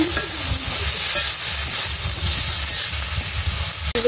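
Vegetables being stirred and fried in a pan with ginger paste and cumin paste, giving a steady close sizzle with rhythmic scraping and stirring strokes throughout, ending in a sharp clink.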